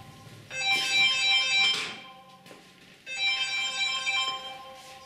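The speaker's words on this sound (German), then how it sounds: "da geht das Telefon" A telephone rings in a piano repair workshop, giving two melodic ringtone bursts with a short gap between them, moderately loud and with no talking.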